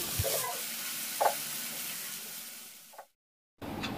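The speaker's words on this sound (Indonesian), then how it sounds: "tumis bumbu sampai matang dan tanak." Spice paste and lemongrass sauté in hot oil with a steady sizzle and stirring scrapes, fairly close, briefly cutting out before the frying hiss resumes.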